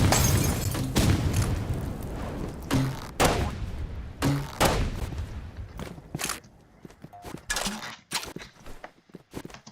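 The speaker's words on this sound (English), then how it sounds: "And that was the grenade launcher." A grenade launcher fires in the Roblox game RIVALS. Several sharp booming blasts come in an irregular series, each followed by a brief decay, with softer clicks and thuds between them and no voices.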